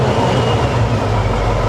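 A Mack truck engine with a bulldog on the front revs steadily under a heavy, broadband mechanical roar, loud and close, with no voices over it.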